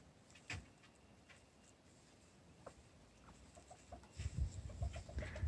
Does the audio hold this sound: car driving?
no